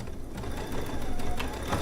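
A sewing machine in a quilting studio stitches steadily, a rapid, even mechanical whirr with fine needle ticking, close and continuous for the whole short burst.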